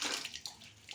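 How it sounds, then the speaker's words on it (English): A cleaning towel being soaked in a basin of warm water, brief close splashing and sloshing with a few soft wet bursts, quiet and alone. "We'll take our towel for cleaning and warm water. We soak the towel"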